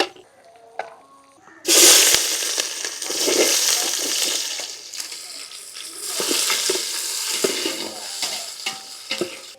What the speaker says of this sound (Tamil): இந்த நெய் ஊற்றிருக்கோம் பார்த்தீங்களா, அதுலேயே வந்துட்டு இந்த முந்திரி திராட்சை இது எல்லாத்தையும் பொரிச்சு எடுத்துப்போம்.